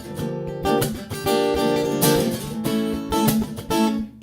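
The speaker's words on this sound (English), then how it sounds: "This is the sound of it plugged in with no extra effect." Dillion DC360ET acoustic guitar played plugged in with no effects, strummed chords ringing clearly and steadily, close and fairly loud with no talking.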